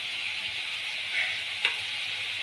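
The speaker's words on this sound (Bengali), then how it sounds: "এবার আমি মশলার উপরে একে একে কই মাছগুলো দিয়ে দেব।" Koi fish laid into hot spice paste in a pan for a Bengali village-style horogouri curry give a steady, bright sizzle with a brief louder crackle near the end.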